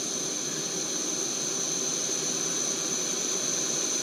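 An MSR Whisperlite camping stove burner, turned up to full power, roars with a steady jet-like hiss that holds loud and unbroken from start to finish.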